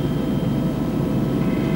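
Helicopter air taxi service flying over New York between Manhattan and Kennedy Airport, a steady, continuous low rotor and engine drone holding at even loudness throughout, with no speech.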